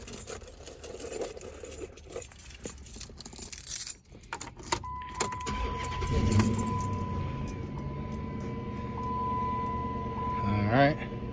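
A set of car keys for a 2006 Dodge Charger jangles close by in bursts and shakes, ending in a brighter rattle, over a quiet background hum with a faint steady tone.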